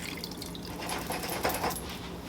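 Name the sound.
pouring hot water into pot for curry chicken feet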